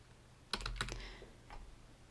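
A handful of soft keystrokes on a computer keyboard, typed in one short burst and then a lone tap after it, quiet and close with nothing else heard.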